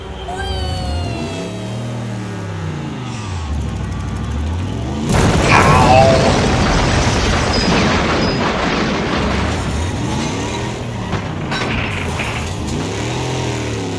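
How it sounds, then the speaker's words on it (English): Cars in the Wreckfest racing game at Hilltop Stadium rev with rising and falling engine whines, then a loud crash of grinding, crunching metal that fades back into revving motors. "You're grinding metal and you're grinding me into the"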